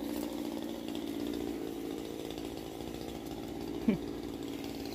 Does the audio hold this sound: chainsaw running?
yes